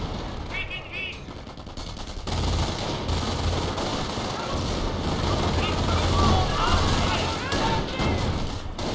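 Video game gunfire with a sniper and mortars in play: bursts of rapid automatic shots and loud cracks, continuous and close, with a voice talking over it.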